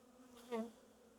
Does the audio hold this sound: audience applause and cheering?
no